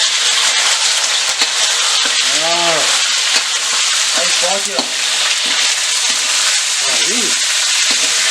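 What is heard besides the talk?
pork and soy frying in a heating pot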